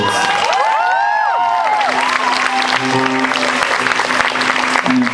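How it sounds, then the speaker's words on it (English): Festival crowd at c/o pop in Cologne applauding the Tom Lab label: clapping and some cheering spread through the hall, joined by swooping electronic tones and a sustained hum from the stage. "I want to give a big round of applause for the fantastic label from Cologne"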